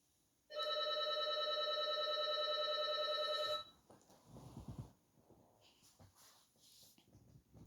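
A telephone ringing indoors, one long loud electronic trill lasting about three seconds, followed by quieter shuffling and movement nearby.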